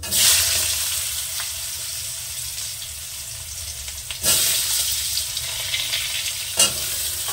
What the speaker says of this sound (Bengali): আলুটা হালকা ভাজা ভাজা করে তারপরে মূলোটা দেবো